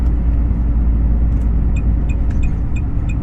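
A truck rolls along a long-haul road route toward Yakutia, its steady low engine rumble and road noise loud and constant throughout, with faint intermittent high squeaks over the drone.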